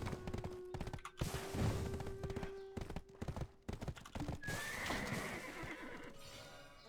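Horses in Black Desert Online whinny and clop their hooves at a stable, with a long neigh, clustered hoof thumps and another rising whinny later, fairly close amid game ambience.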